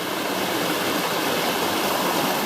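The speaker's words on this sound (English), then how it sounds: "So now we're just gonna cross this raging torrent" A fast stream runs over rocks on the trail to Waimoku Falls, a steady, dense rush of water that fills the whole clip, close by and loud, with no voices.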